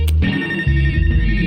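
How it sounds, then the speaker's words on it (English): A phone rings in the video game Life is Strange, a loud electronic ringtone with steady tones over a low hum, filling the short moment alone. "Phone."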